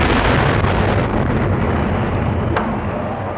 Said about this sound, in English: Here is the actual audio of the explosion.